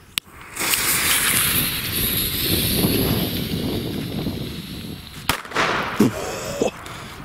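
A sharp bang sets off a long hissing, crackling burst of New Year's Eve firecrackers, followed by another loud crack and a few scattered pops.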